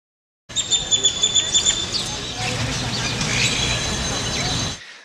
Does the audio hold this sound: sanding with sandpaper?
no